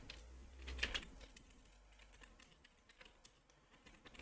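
A computer keyboard is typed on with quick, light, irregular clicks as a prompt is entered, close and faint in an otherwise quiet room.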